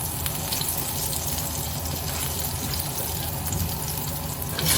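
Red and green chilies fry in a hot pan for rice, giving a steady, dense sizzle that holds evenly throughout and swells slightly at the very end, with no voices.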